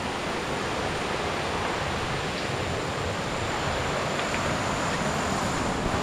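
Dudhsagar waterfall rushing with a steady, dense broadband roar that stays constant and loud throughout, with no voices over it.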